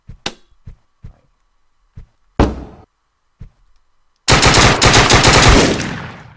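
Gunfire in the video game Deadbolt: a string of sharp, separate shots spaced unevenly apart, then a loud, sustained roaring burst that runs to the end.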